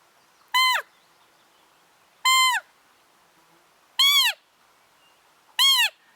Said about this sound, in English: To change the pitch with the Nordic row, on the backside there is a hole where you can put your thumb over.